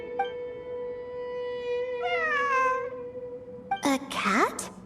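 A cat meows in the video game Genshin Impact, set in the Sumeru ruins: a short mew near the start, a longer falling meow around the middle, then a rising cluster of meows at the end, all clear and close.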